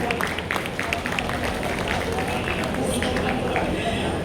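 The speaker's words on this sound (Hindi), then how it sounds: "एक बार जोरदार तालियां" Dense applause from a large audience at the Best of Basti Awards ceremony, a continuous loud wash of clapping that runs steadily throughout with no pause.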